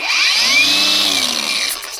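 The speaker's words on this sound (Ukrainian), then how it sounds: "Болгарка з Aliexpress під брендом Петрович." A Petrovich-brand angle grinder bought from AliExpress whines loudly as it spins, its motor pitch rising and then easing down over a couple of seconds, close and alone with no talking.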